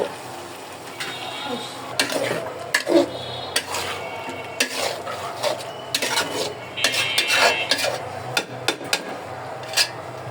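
Chicken biryani ingredients are sautéed in a pot, with a continuous, close clatter of a spoon scraping and knocking the metal over a light sizzle while people talk.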